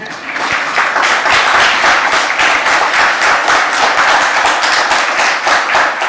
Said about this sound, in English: So really big clap hands for you.